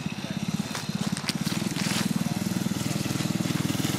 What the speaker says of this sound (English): little dirt bike. Got his little machine running pretty good.